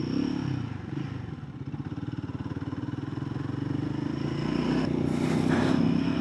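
A Royal Enfield Guerrilla 450 single-cylinder engine thumps steadily through its exhaust at a fast even pulse, rising a little in speed toward the end, with traffic noise around and no talk.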